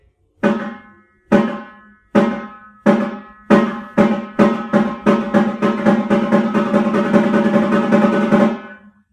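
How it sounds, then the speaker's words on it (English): Marching tenor drum strokes played as sparse doubles that speed up into a fast, dense roll, the second note of each double dropped so the pairs sound uneven, close and loud, with no voices. "what you don't want is to drop the second note of the double"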